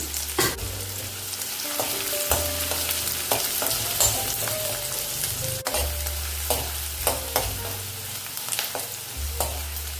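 Coarsely chopped onion and large pieces of ginger fry in a little oil in a pan, a loud close sizzle broken by repeated scraping stirring strokes and a few spoon knocks.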